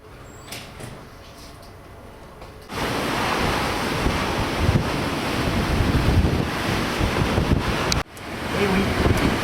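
Strong wind buffets the microphone in a loud, continuous roar on a coastal ship in the Barents Sea, with a brief drop just before the end; sea noise sits underneath.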